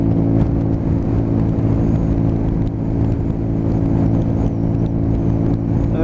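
A Honda CB125 motorcycle cruising at a steady 55 on a test ride, its engine holding a loud, constant droning hum with wind rush layered over it, close and unbroken for the whole stretch.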